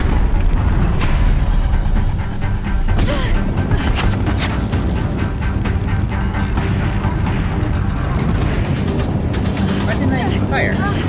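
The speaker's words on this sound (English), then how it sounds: "We're gonna start with an explosion there." Fire explosion in the Horizon Zero Dawn video game, with loud booming blasts and crashing impacts layered over continuous battle noise, and a voice talking under it.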